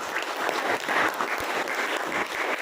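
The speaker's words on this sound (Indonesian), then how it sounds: "Tepuk tangan" Steady applause from a class of schoolchildren, many hands clapping densely and continuously at moderate volume, with no pauses.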